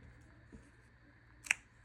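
Scissors snip off excess craft material from a wrapped DIY piece, giving one short, crisp cut near the end amid soft handling noise.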